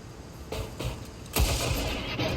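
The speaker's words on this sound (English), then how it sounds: "you are going to, you know, shoot this guy" Gunfire in the X-COM 2 video game, a Gatecrasher mission: a few sharp broadband shot bursts, the strongest near the middle, over a steady background hum with no talk.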